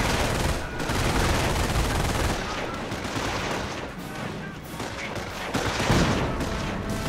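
Machine gun and mortar fire in Company of Heroes makes a dense, continuous battle din of rattling bursts and heavy booms, loud and close throughout.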